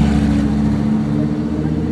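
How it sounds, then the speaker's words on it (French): A green Lamborghini Huracan Performante Spider passes on a street in Monaco, its engine a steady, loud low rumble throughout with no break or fade. "Huracan Performante Spider qui passe là en vert."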